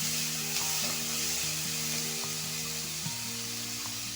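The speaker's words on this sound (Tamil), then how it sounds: "கூட்டுக்கு தேவையான உப்பை சேர்த்து வதக்கினா சீக்கிரமாக வதங்கிடும்." Drumstick leaves with green and dried chillies sauté in a pan, making a steady loud sizzle and frying hiss throughout, close with no talking.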